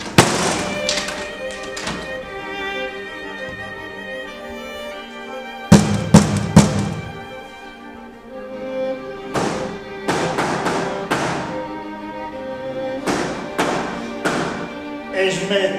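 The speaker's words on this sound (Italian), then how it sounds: "Smettila di bussare, se vengo lì e ti picchio, smettila!" Persistent knocking on a door in a tense domestic drama scene: loud knocks come in clustered bursts, including a sharp run of three, over a sustained musical score with no speech.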